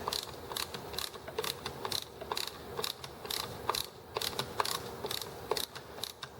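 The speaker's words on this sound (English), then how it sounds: "Switch for this little ratchet handle." A small ratchet handle clicks quickly and steadily, a close string of sharp metallic ticks with no voices.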